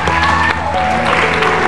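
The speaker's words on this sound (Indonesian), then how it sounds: "Kasih tepuk tangan dong, beneran." Studio audience applauding on an Indonesian television talk show, a steady dense wash of clapping filling the whole stretch at close range, with music and voices faintly underneath.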